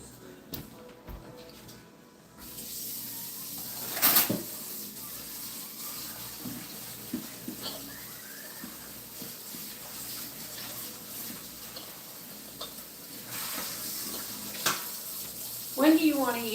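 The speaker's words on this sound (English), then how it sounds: "Now I'm going to wash this bowl," Tap water runs steadily into a kitchen sink while a pastry mixing bowl is washed, a continuous splashing hiss with occasional clinks and knocks, heard close up under a quiet background hum.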